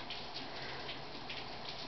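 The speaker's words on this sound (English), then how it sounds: "Yuck, it's raining." Steady rain falling outside a window, a continuous even hiss of drops that stays fairly faint and unbroken throughout, with no voices heard.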